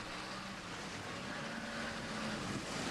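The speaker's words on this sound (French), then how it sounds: "un long queue, une pirogue ainsi baptisée en raison de cette tige à l'arrière qui sert à la fois de gouvernail et d'arbre de transmission" A Thai long-tail boat powered by a truck engine drones steadily on a Bangkok canal, a continuous loud motor rumble with no talking.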